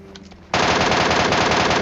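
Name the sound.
gunfire from an enemy in the video game PUBG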